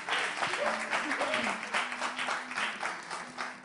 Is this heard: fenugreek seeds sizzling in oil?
no